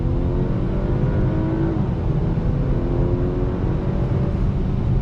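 A 2020 Audi A5 coupe accelerates hard at full throttle on a highway, its engine a steady loud drone with rising harmonics that shift once as it changes gear, heard from inside with continuous road noise.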